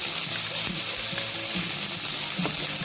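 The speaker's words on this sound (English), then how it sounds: "you can see this is sauteing nicely" Chanterelle mushrooms and lamb sauteing in an inexpensive frying pan, a loud, steady sizzle with occasional crackles and pops, close up and continuous.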